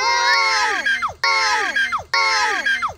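A group of children screams together in three loud, sustained shouts, each ending in a falling squeal, close by and repeated at a steady pace.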